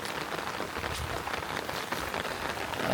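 Steady rain pours down on a cauliflower field, a dense continuous patter of drops striking a surface, close and fairly loud with no pauses.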